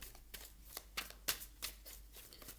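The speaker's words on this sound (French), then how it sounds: "Je vais demander quand même une autre carte." A tarot card drawn from a deck: quick dry flicks and slides of cards, several soft rustles and snaps over under three seconds, close and quiet.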